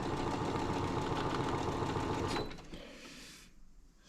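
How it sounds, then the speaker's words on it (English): A sewing machine joins rag ends into one long weft strip, a steady loud rapid whirring hum that slows and fades out after about two and a half seconds into quiet. "sew rag ends together to make one big long weft"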